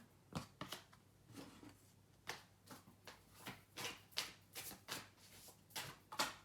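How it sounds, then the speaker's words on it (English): Quick riffling bursts of a deck being shuffled, repeated in a steady series of crisp flutters, close and fairly quiet with no talking. "shuffle the cards"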